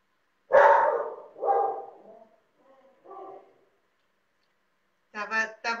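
Female house dogs bark indoors in a few loud, separate yaps with quiet gaps between them, ending in a quick cluster of sharp barks.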